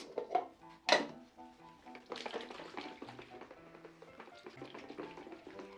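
A film development tank holding developer is agitated by hand, giving close clunks and sloshing with a sharp knock near the start and then a stretch of softer rattling and swishing liquid.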